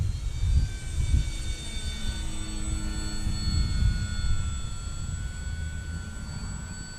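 A plane passes overhead with a droning engine roar that swells and fades over several seconds, with faint low rumbles and no talk.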